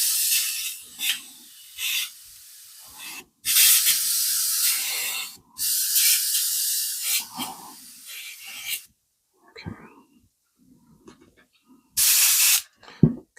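An Iwata HP-BCS bottle-fed airbrush with good air flow sprays in steady, loud hissing bursts of a few seconds each, separated by short gaps, with a final short burst after a quieter pause.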